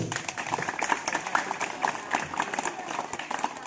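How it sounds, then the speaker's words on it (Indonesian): Schoolchildren at an elementary school assembly clap their hands in quick, uneven bursts, with scattered voices and chatter mixed among the claps. "kalau ngaji bagus, tepuk tangan dulu"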